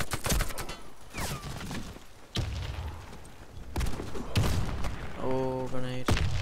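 Gunfire in the shooter game Warface: sharp bursts of shots and heavy thuds spread through the clip, with a quick rapid-fire stutter near the end, all fairly loud and busy.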